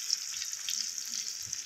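Onions sizzling in hot oil in a pan for a crab curry, a steady faint hiss of frying close by with no talk over it.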